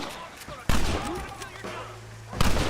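Gunfire from a standoff in Red Dead Redemption, with a loud burst of shots breaking out suddenly and another blast near the end over a low rumbling background.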